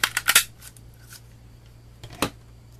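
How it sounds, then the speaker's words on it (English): A Martha Stewart snowflake paper punch, held upside down, snaps through paper in a quick burst of sharp clicks, then one more crisp punch after a short pause, close and alone. "I just flip my punches upside down so I can see right where I'm punching."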